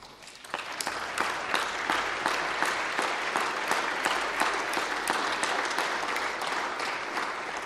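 Steady applause from a large audience during an EU High Representative's policy speech, a dense wash of many hands clapping that holds at an even level for several seconds with no voices over it.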